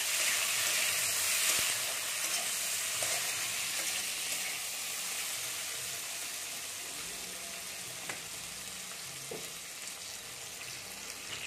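Potatoes fry in hot oil with a bright, constant hiss of sizzling, loudest at first and easing slightly, while a few soft stirring scrapes and taps come through. No one talks.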